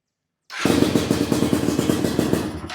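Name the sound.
MXF 250 TSX two-stroke motorcycle engine starting and running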